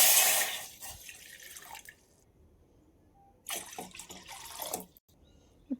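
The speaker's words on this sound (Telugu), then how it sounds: "2 గ్లాసెస్ వాటర్ వేసుకోవాలి" Water pours into a cooking pot on a stove for ragi porridge, two glassfuls going in as two short splashing bursts separated by a quiet gap, close and fairly soft, with no talking.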